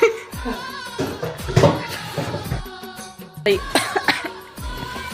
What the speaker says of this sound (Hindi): आमा खाए हैं तो खांसी आगे संगवारी हो।